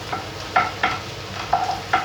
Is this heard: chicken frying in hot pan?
yes